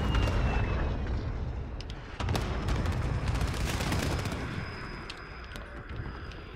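Rapid full-auto pistol fire in Modern Warfare, a dense, continuous burst of loud shots with a sharp added crack near two seconds, the firing thinning out and fading toward the end.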